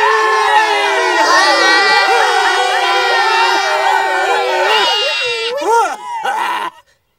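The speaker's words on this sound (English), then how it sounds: "and then all the people yelled." A big animated crowd yells and cheers together in a loud, sustained mass of voices that breaks into a few scattered shouts before stopping abruptly.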